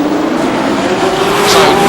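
Race cars in a 2009 European Le Mans Series race roar past on track, a loud continuous engine blare that swells as one car passes close.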